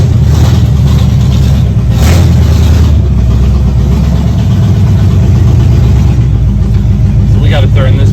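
A Chevrolet K20 pickup truck's engine runs loud and close, a low steady idle with a deep rumble that briefly swells and throbs as it is moved out of a garage.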